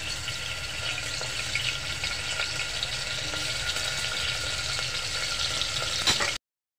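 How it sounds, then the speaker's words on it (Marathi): Paneer cubes frying in hot oil in a pan, a steady close sizzle with faint bubbling crackle running evenly throughout before cutting off abruptly. "एक पनीरचे क्यूब फ्राय करा। तेल चांगलं गरम राहायला पाहिजे।"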